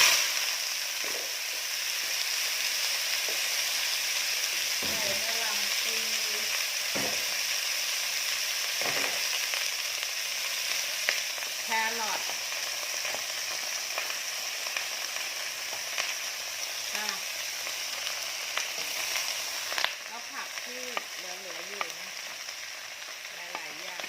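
Shredded cabbage sizzles and hisses loudly in a hot pan while glass noodles are stir-fried, with a constant crackling fry and scattered stirring clinks and scrapes through the whole stretch.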